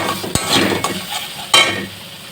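Spice paste with turmeric, salt and a spoonful of sugar is stirred and fried in a pan, producing a short burst of sizzling with a few sharp spoon scrapes and knocks up close.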